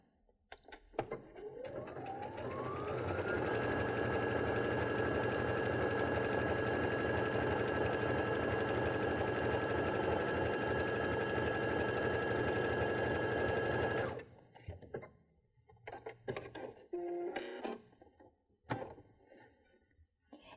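A Baby Lock sewing machine fitted with a garment maker foot runs a steady triple stitch for about twelve seconds, a smooth continuous motor whir that stops abruptly, followed by a few quiet handling knocks.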